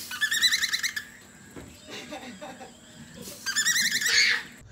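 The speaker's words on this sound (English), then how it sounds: "the hose is making this noise and it's the best" A hose makes a warbling, squeaky whistle that rises and falls in two bursts, with quieter speech-like murmurs in the gap between them.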